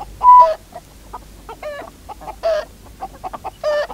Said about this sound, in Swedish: Närmast oss ser vi tuppen.